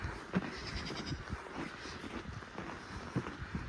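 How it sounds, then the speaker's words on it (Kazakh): Sheep bleat a few times in a pen, short nasal cries rising over a steady background of rustling and shuffling. "қойларды қамап отыр екен"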